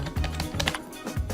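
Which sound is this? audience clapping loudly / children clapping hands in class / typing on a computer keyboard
typing on a computer keyboard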